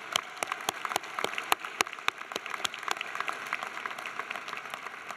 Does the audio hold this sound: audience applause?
yes